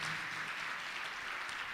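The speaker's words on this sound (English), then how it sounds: "A round of applause to you guys" Applause from an audience at a learner-led dialogue on preventing gender-based violence, a uniform hiss of many hands clapping at a fairly distant, moderate level.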